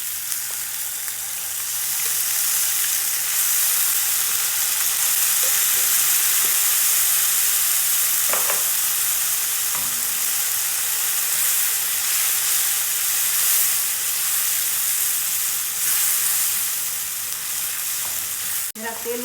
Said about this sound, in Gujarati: વઘાર થવા દેશું.